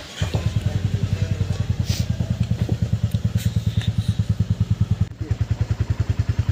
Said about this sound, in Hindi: जैसे भाई ने बाइक स्टार्ट कर ली,